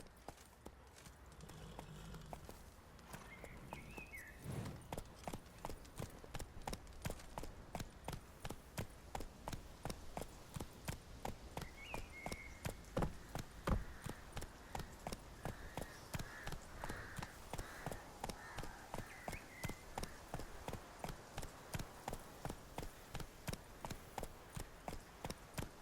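Horse hooves galloping in The Witcher 3, a steady fast clip-clop rhythm that runs unbroken and moderately loud over a faint game backdrop, with a short spoken command near the start.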